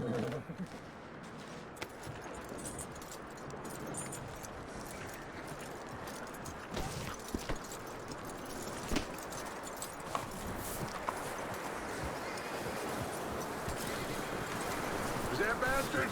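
Horse hooves clip-clop steadily in Red Dead Redemption 2, a soft regular beat under wind and outdoor ambience, with a few sharper knocks as the horse moves.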